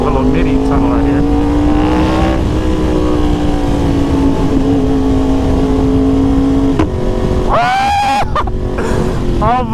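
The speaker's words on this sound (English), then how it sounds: "she popped so loud when I shifted to third gear" A Yamaha R1 motorcycle with a KO exhaust revs loud and close inside a tunnel, its engine note climbing steadily. A sharp break near the end, where it shifts gears, is followed by a fresh, higher-pitched rise.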